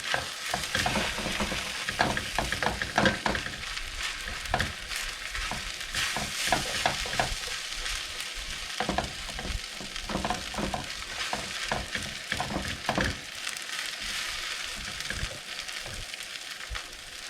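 Rice being stir-fried in a hot pan with a steady sizzle, broken by repeated scraping and tossing strokes of the spatula throughout, close and continuous.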